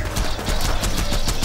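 Rapid automatic gunfire from a weapon in Borderlands 2 rattles continuously and loudly through the whole short burst, with no talk over it.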